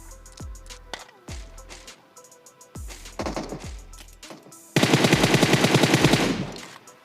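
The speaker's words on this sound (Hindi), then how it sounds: "जैसे इस वाली जगह पे आता हूँ तभी पीछे से इस कैरल से फायर होता है" Gunfire in a mobile shooter video game: several spaced single shots early on, then a loud sustained automatic burst near the end, with no talking.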